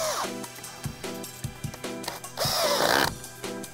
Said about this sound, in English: Secure the corners with the cross braces, using a screwdriver to tighten the screws.